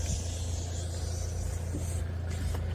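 A 2013 Mercedes A-Class diesel car with automatic transmission and about 82,000 miles hums steadily nearby, a low continuous engine rumble with no voices.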